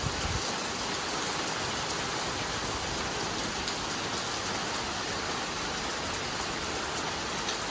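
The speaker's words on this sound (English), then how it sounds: "these clouds and this rain came out of nowhere. It's pouring." Heavy rain pouring down in an Arizona low-desert backyard, a dense, steady roar of drops hitting surfaces with no pauses, close and loud, with no voices.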